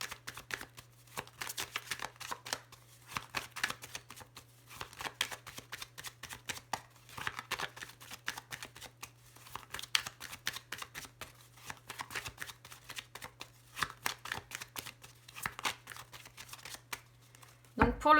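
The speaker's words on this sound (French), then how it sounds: "je laisse pas les cartes sauter, je fais simplement une coupe" Tarot cards being shuffled and cut in quick repeated riffling bursts, crisp and close, separated by short pauses, over a faint steady hum in a quiet room.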